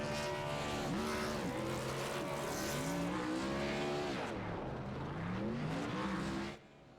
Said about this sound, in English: McMillan, Fish, dual burnouts at Daytona.